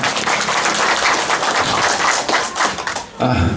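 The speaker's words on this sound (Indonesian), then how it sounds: "Tepuk tangannya dulu, tepuk tangannya." Loud, close audience applause fills a public hearing with residents, dense clapping throughout with a brief dip before it swells again.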